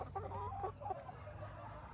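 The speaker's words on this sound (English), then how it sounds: "As you can see, they started pecking at the seed" Backyard chickens cluck softly nearby while pecking at scattered seed among lamb's quarter, with short irregular clucks and faint scratching over a low background.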